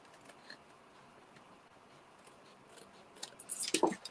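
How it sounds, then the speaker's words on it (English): Scissors snip through a strip of paper during card-making, a brief crisp cut near the end following quiet rustling, close and fairly soft. "so I'm just going to snip that"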